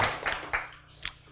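A few scattered audience members clap sparsely, roughly four separate close hand claps with gaps between them, fading quieter toward the end.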